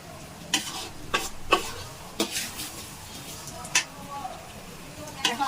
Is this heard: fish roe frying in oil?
yes